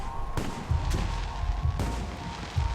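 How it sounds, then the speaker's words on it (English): Fireworks bursting during a park show in the video game Alpha Protocol, a few sharp booms and crackling pops spread over a steady background rumble. "The noise from those fireworks should cover the sound of gunfire."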